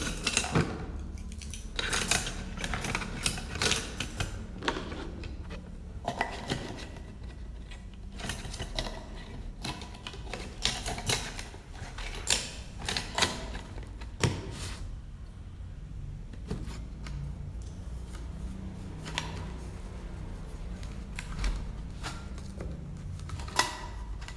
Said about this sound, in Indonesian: Kita masukin sendok sama garpu sini.